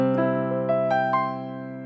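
Keyboard piano notes played with the sustain pedal climb in a short ascending run, each tone ringing on and blending into the next, close and sustained.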